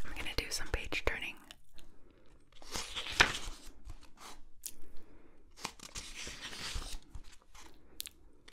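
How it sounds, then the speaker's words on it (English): Paper pages of a book are turned and rustled up close in a quiet room, with a series of soft crinkling sweeps and crisp flicks, some louder than others, interspersed with brief silences. "I'm gonna do some page turning."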